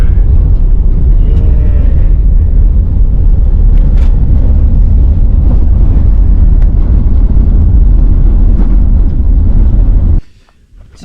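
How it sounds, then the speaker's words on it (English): A 4WD rumbles steadily along a red, dusty, corrugated dirt road in the West MacDonnell Ranges, its loud continuous road and engine roar filling the cabin before cutting off abruptly near the end; a brief word is spoken. "let's have a look at this nice red dusty corrugated road"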